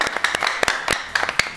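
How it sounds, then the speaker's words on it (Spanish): Audience applause welcoming an Olympic taekwondo medalist onto a television show, a short run of irregular sharp claps that sounds like a small group clapping close by. "un aplauso para ella"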